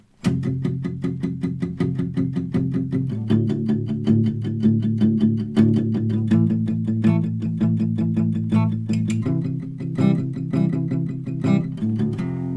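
Guitar chords strummed with rapid, driving downstrokes in a steady rhythm, changing chords every few seconds, loud and continuous.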